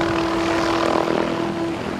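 A helicopter over Waikiki Beach at a May Day ceremony, a loud, steady rotor and engine drone with a strong constant hum, close overhead for about two seconds, with no talk.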